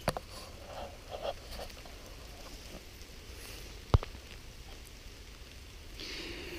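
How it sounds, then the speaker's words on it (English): Rain falls on a tarp at a stealth camping spot in wet weather, a soft, steady patter with a few sharper taps and rustles close by, and no talk. "Oh, it will be nice going to sleep tonight if it's just raining like this."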